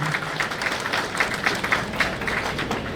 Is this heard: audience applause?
yes